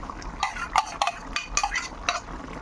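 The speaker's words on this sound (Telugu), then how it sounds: "మొత్తం అంతా కలిసేలాగా కలుపుకోవాలండి" Prawns and cooked gongura leaves are stirred together in a pan, with a utensil scraping and tapping in quick, uneven strokes up close, the mixture gently frying underneath.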